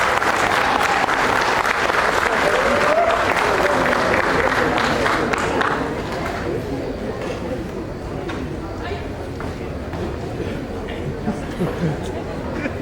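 An audience welcoming a speaker to the front at a formal event bursts into loud, sustained applause that fills the room, gradually thinning toward the end, with some crowd murmur underneath.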